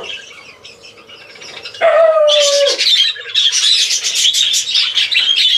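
Pet budgerigars of spangle and rainbow colour varieties squawk and chatter loudly up close, with a harsh call followed by a dense run of overlapping high chirps and no talking.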